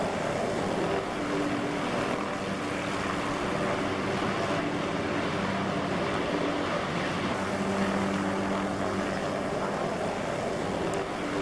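A helicopter in the DayZ video game, its steady droning engine and rotor noise continuing loud and unbroken throughout.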